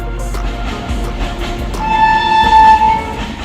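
A train passes through Dilwa railway station on the Bihar–Jharkhand border, a loud steady rumble with a long tonal horn blast rising over it midway.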